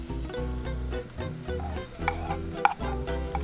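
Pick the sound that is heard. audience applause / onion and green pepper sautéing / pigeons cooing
onion and green pepper sautéing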